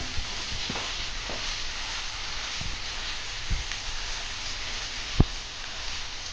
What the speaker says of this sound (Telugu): ఈ మసాలా అంతా ఈ ముక్కలకు పట్టే విధంగా బాగా కలుపుకుంటూ వేయించుకుందాం